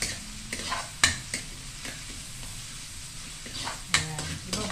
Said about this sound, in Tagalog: Iba brown po natin siya.